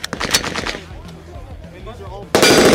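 Rifle fire at an outdoor shooting range, with a loud burst of sharp shots at the start, a quieter stretch of echo and low noise, then another loud, sustained blast of fire at the end.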